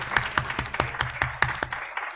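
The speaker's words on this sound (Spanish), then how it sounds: "Un aplauso para ellas." Audience at a Korean studies symposium applauds a panel of three speakers, a short, fairly thin burst of distinct claps from a modest crowd, close and steady before fading out.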